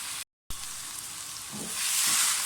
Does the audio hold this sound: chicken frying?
yes